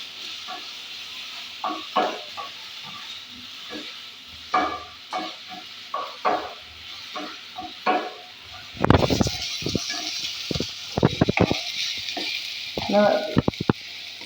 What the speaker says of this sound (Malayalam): ചെറുതായിട്ട് അതും അതേപോലെ തന്നെ പഴവും നമുക്ക് വാട്ടിയെടുക്കാം